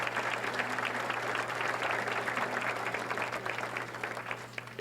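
Dinner audience clapping for cook George Kelly Jr. of Harbinger Cuisine, a full, even burst of applause from many hands, strong and continuous before tapering slightly near the end, with a low steady hum beneath.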